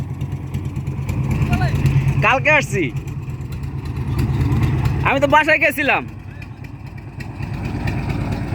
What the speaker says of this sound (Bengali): আমাদের দেশে যারা ট্রলার দিয়ে পার হয় আপনারা দেখতে পাচ্ছেন